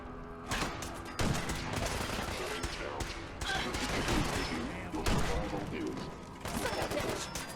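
Sustained automatic gunfire from the video game Fallout 4 rattles in close, dense bursts, pausing briefly between volleys, with voices audible in the mix.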